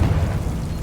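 A Confringo fire spell bursts in Hogwarts Legacy, a single low booming blast right at the start that rumbles briefly and fades, loud and close with no talking.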